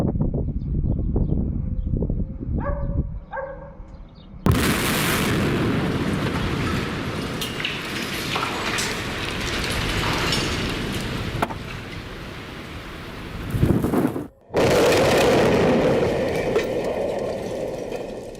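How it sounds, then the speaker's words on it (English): An old bridge in Dortmund collapses in a demolition explosion: after a few seconds of quieter background, a sudden loud blast gives way to a long, rumbling roar of falling debris. "The old bridge in Dortmund collapsed in a spectacular explosion."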